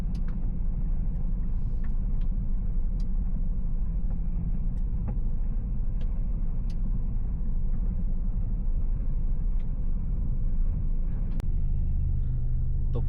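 Truck pulling into a parallel parking area on a long-haul route in Saudi Arabia, a continuous low engine rumble with faint clicks and ticks, steady throughout.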